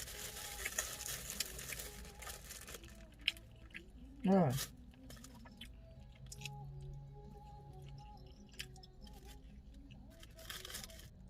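Someone eats grilled pork skewers (moo ping) at a petrol station, with soft, faint chewing in quiet, low-level surroundings and one brief louder burst midway.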